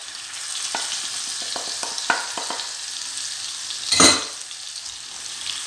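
Spiced chicken pieces frying in a pan, with a steady close sizzle under a few sharp scraping taps of stirring and a louder clatter near the middle; no talk.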